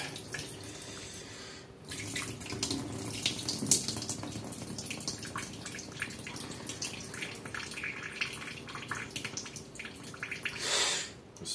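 Water trickles and splashes steadily while orchids are watered with a mineral-enriched solution, a soft close dripping and pouring over several seconds with a brief louder splash near the end.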